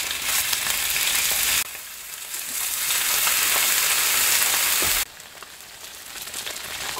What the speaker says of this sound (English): There's nothing more satisfying than listening to bacon sizzling on a griddle